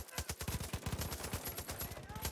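Rapid, sharp reports from a suppressed sniper rifle in Far Cry 5, a dense string of punchy shots filling the whole stretch at close range with no talk.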